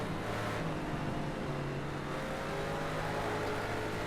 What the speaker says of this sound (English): This thing certainly sounds the part of being an American muscle car